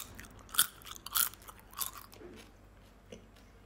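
Several crisp crunches come from biting into vegan chicken made with fried tofu skin, loud close bites and chewing in an uneven rhythm that fades toward the end.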